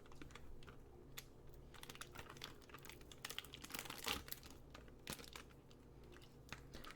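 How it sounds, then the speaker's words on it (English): A bag of vanilla drink mix from a Canadian military ration is opened with faint, close crinkling and rustling plastic, broken by scattered small crackles and one slightly louder crunch. "As soon as you open the bag"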